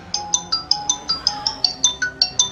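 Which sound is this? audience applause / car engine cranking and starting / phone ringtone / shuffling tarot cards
phone ringtone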